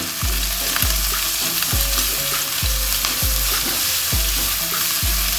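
Grated onion sizzles steadily in hot oil in a pan while a spoon stirs it in regular strokes about once a second, each scrape sharp and close against the constant loud frying.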